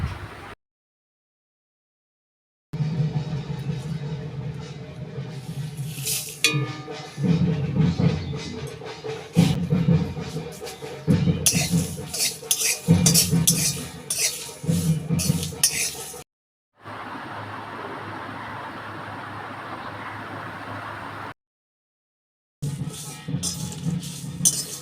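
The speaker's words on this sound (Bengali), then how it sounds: "শুকনো লঙ্কাগুলো আমি ভেজে নেব।" Dried red chilli pieces frying and being stirred in a pan for a sour-sweet-spicy dried jujube pickle, with steady sizzling and repeated utensil scrapes and clinks, broken by short silent gaps.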